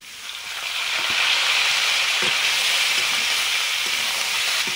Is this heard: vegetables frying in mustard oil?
yes